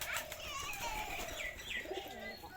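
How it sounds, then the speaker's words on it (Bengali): Pigeons in a loft where a parent bird is feeding its chick; soft cooing and chirpy squeaks continue against a steady busy background, with faint voices present. "এই কবুতরটা তার বাচ্চাকে খাওয়াইতেছে"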